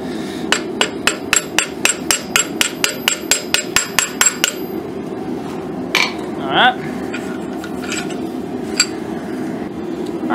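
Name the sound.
hammering a rail spring clip blade while forging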